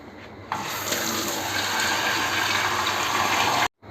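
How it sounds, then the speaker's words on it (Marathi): Water pours steadily from a tap into a vessel of soaking white peas, a loud continuous rushing splash that starts abruptly after half a second and cuts off just before the end. "हे बघा, भरपूर पाणी घालायचं वाटाण्यामध्ये."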